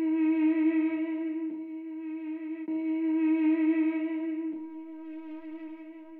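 A beat built in FL Studio with a delay echo effect carrying slight distortion: sustained bright synth tones ring out and repeat, with soft retriggers every second or so and a trailing echo that slowly fades.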